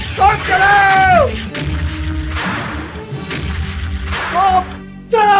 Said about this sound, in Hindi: तोप चलाओ चलाओ, तोप चलाओ